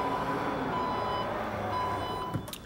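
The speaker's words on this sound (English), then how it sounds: "Parking sensors in the back." Rear parking sensors on a 2014 Porsche Cayenne S Hybrid beeping: a steady electronic tone over a constant engine and cabin hum, close and fairly quiet, with no talking.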